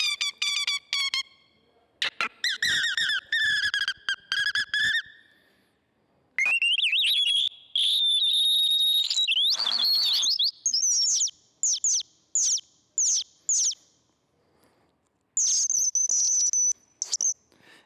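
A sequence of recorded bird calls and songs: clear whistles, rapid chirps, trills and buzzy notes, loud and close, played one after another with short silent gaps between them.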